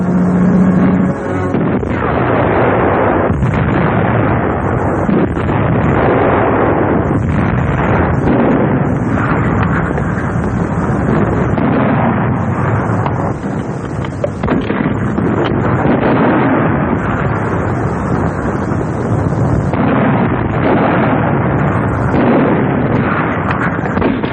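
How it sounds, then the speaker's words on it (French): WWII artillery fire shelling Soviet bunkers near Yalta: loud, dense, continuous rumbling booms and bursts blend into a distorted roar throughout, as in an old newsreel soundtrack. "Weiter vorne kämpft Artillerie die sowjetischen Bunker vor Jalta nieder."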